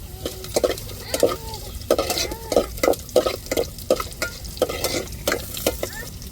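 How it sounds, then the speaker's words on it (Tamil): Onion and curry leaves fry in hot oil, sizzling steadily while a spoon stirs and scrapes the pan in quick, repeated strokes close by. "வெங்காயம் சேர்த்துக்கிடுவோம் கருவேப்பிலை சேர்த்துக்கிடுவோம்"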